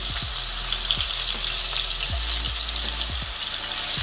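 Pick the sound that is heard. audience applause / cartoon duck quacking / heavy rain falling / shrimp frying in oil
shrimp frying in oil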